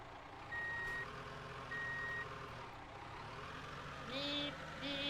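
Truck reversing beeps from the ContractVille video game, a repeating pair of electronic tones sounding twice near the end over a steady low engine hum.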